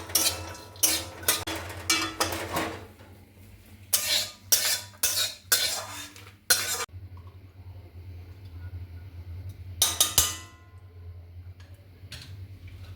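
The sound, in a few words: roasting walnuts in ghee in a pan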